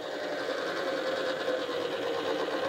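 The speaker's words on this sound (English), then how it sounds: "I'm now using it as a flail mower" A Peruzzo Scorpion front flail mower on a Kubota B2261 tractor runs with a steady whirring whine and a dense mid-range hum that stays constant, with no pauses, throughout the short stretch.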